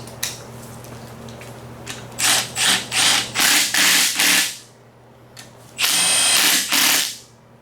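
A ratchet driving stock oil pan bolts into a Holley oil pan, a run of quick, rhythmic clicking bursts, some short and some longer, close and loud, with quiet pauses between turns.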